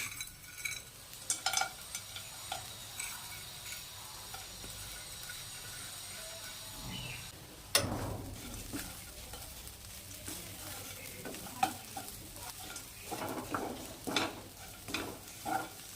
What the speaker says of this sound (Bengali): আমাদের শাকটা ভাজা হয়ে গেছে দিয়ে দেব ভেজে রাখা বড়িগুলো